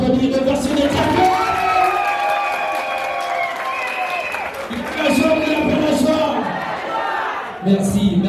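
Guests at a civil wedding applaud and cheer loudly, with whoops and excited shouting over sustained clapping, a lively, close crowd throughout.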